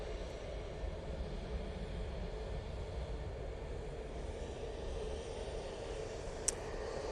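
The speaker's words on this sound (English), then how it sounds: "A321neo going off to Madeira Funchal now" A Jet2 Airbus A321neo departs Manchester Airport for Madeira Funchal, its engines a steady, distant broadband roar that holds evenly throughout with no one speaking.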